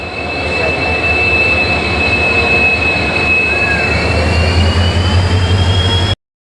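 A train rumbles loudly past close by, steady heavy roar with a thin high metallic squeal from the wheels, ending abruptly.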